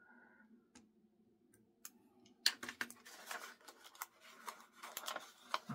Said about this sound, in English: cut out that little hole.